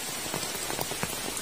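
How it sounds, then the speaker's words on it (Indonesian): Steady rain falls in a remote village in Central Java, a dense even patter on surfaces with scattered louder drops, close and continuous with no voices. "sambil menikmati suasana hujan di desa terpencil"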